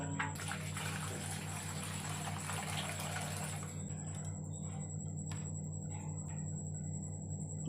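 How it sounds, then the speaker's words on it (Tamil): Pirandai, veld grape stems, are washed in water, a close rushing splash for a few seconds that then stops, leaving a quiet background hum. "இப்போ பிரண்டையை நாம் கழுவி எடுத்துக்கலாம்."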